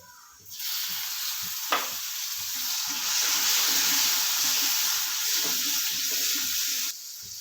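Ginger-chili paste sizzles steadily in a hot pan for several seconds, a close, bright frying hiss with a faint clink of a utensil near the start and occasional light stirring, no voices.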